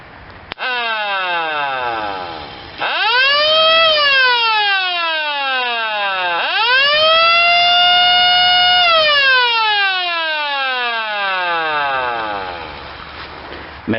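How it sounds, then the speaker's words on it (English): A siren winds up from silence into a high wail, falls away, then spins up again to a second long peak before slowly winding down. It is loud and close, with no talking. "so I can show you guys what the siren sounds like"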